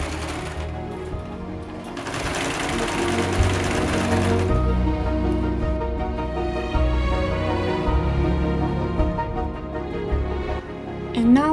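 Sewing machine stitching brown and black fabric strips for a cosplay costume, a close run of rapid mechanical needle clatter that shifts in pace and briefly surges louder, with quieter stretches between bursts of stitching.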